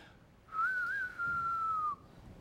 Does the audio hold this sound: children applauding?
no